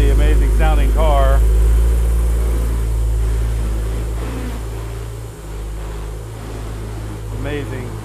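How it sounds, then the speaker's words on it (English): A 2016 Porsche Boxster Spyder engine runs indoors with echo, a loud deep rumble that idles throughout and eases slightly partway, while a person talks over it. "Now clearly we are inside, so there is a little bit of echo, but really, really amazing sounding car."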